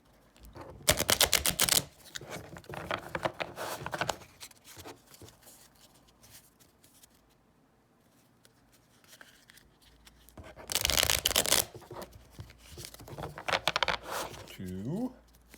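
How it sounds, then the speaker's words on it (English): Tarot cards are shuffled in several quick, crisp riffling bursts, with quieter handling noise and soft talk in between. "Now we're going to shuffle them 3 times."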